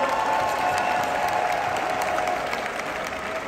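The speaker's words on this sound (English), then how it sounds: "Give a nice big round of applause." A crowd at a women's basketball tournament halftime show applauds in a steady, dense wash of clapping that holds throughout and eases slightly toward the end.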